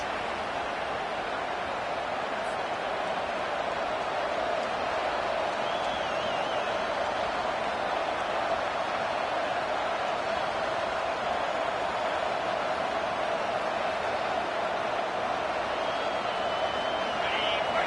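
A stadium crowd in a Tennessee vs South Carolina football video game roars in a steady, full, unbroken wash of noise that holds at even loudness from start to finish.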